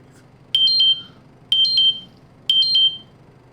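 A phone app alarm sounds three identical, evenly spaced bursts of shrill electronic beeping, each about a third of a second long, loud and close, with quiet between them.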